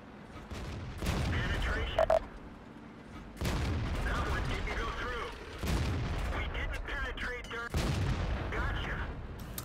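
Cannon shots from tanks in the World of Tanks video game on the Karelia map come as several heavy booming blasts with rumbling tails, spaced a couple of seconds apart, mixed with game effects and a voice talking over them.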